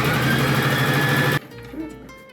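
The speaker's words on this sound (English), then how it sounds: "And now we are going to start actually sewing." A sewing machine makes a test run while a fabric bodice is sewn, with a loud, steady mechanical whir that stops abruptly after about a second and a half.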